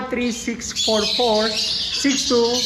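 Caged birds in an aviary squawk and chirp loudly up close, harsh repeated calls overlapping one another with a busy aviary chatter underneath.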